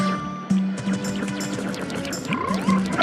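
Croaking frog in the video game Zelda: Majora's Mask, a few short croaks up close over a steady game soundscape with tonal music, no talking.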